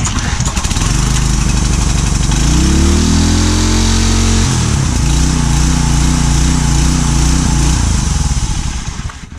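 A petrol engine on a power washer runs loud and close after a choke start, holding a steady rumbling idle with a shift in pitch partway through and no speech over it.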